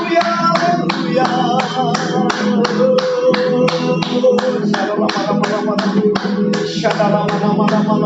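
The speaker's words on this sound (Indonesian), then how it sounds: "Mari bersama-sama kita tepuk tangan yang mulia bersama kita." Congregation at an online Sunday worship service claps hands in a steady, rhythmic beat, loud and close, with sung music underneath throughout.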